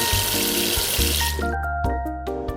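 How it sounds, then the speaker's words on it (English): Tap water runs steadily over a raw pork shoulder being rinsed and washed in a kitchen sink, a continuous close splashing flow with shifting tones as the meat is moved under the stream. "Firstly, rinse and wash the pork shoulder."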